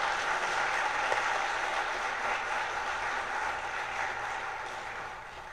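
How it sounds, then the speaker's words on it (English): A church congregation gives the choir a sustained round of applause, an even wash of many hands clapping at moderate distance that holds steady and tapers slightly at the end. "Let's give them another round of applause."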